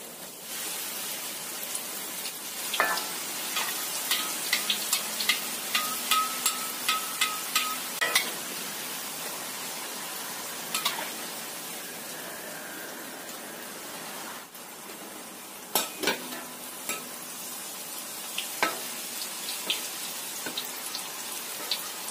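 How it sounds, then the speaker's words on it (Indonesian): A steady sizzle of tapioca crackers frying in hot oil runs throughout, with scattered crackles and pops rising above the constant hiss. "Kita goreng yang selanjutnya."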